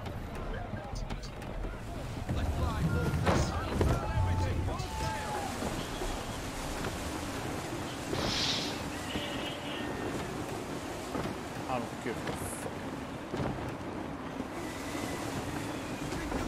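Steady low wind rush at sea in Assassin's Creed 3, with broadband noise swelling and easing in gusts throughout, mixed with faint creaks and game sounds under occasional talk.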